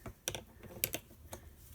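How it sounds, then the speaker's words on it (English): Metal knitting needles tap against a tripod while knitting a shawl, giving several sharp, faint clicks in an uneven rhythm, close to the microphone in a quiet room. "Sorry about the clicking, it's my needles hitting the tripod."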